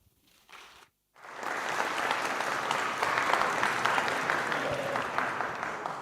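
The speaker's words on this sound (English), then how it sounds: "Round of applause again to Onyerup Zangpo for keeping the session right on time." A conference audience breaks into sustained, loud applause after a brief quiet pause, the clapping continuing steadily to the end without talk over it.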